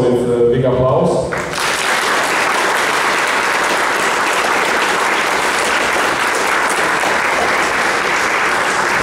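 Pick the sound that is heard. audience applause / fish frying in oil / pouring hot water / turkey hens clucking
audience applause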